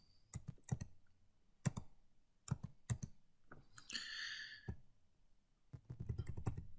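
Keystrokes on a computer keyboard while a Vim macro is entered: crisp, irregular clicks arrive in scattered bursts with short pauses and a brief hissy scrape midway, close and distinct, with no voices.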